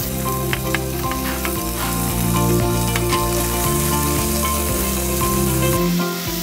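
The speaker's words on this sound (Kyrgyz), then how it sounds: "Биринчи очередь биз этти кууруп алабыз." Meat sizzles in hot oil in a pot, the first step of cooking shorpo soup: a steady, close crackling fry that runs throughout under soft, sustained background music.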